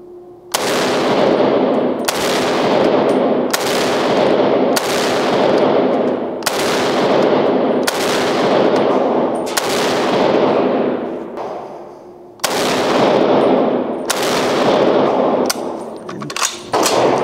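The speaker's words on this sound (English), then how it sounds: "It's a lot of fun to shoot, yeah." An M1 carbine fires a string of about ten loud, sharp shots in steady succession, each report ringing out and decaying before the next, with a brief pause mid-string after a misfeed before firing resumes.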